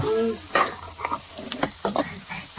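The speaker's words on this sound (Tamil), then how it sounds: "வெங்காயம் நல்லா வதங்கிச்சு" Onions sautéing in a pan for a spicy chutney, with repeated scraping stir strokes over a soft sizzle, close and moderately loud, while a voice talks briefly near the start.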